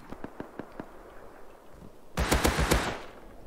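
Rapid bursts of AK rifle fire in a video game: a few faint, widely spaced shots, then a loud, close, fast string of cracks lasting about a second.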